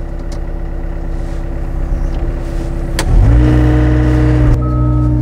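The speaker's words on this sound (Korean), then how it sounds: "시동을 걸고요" A 2020 Hyundai HW60A wheel excavator's diesel engine cranks and catches about three seconds in, jumping to a loud, steady idle close by.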